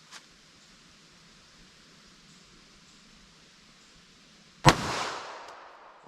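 A single sharp gunshot from a .380 ACP pistol firing a Winchester Silvertip round into ballistic gel, a loud crack followed by a decaying echo after several seconds of quiet room noise.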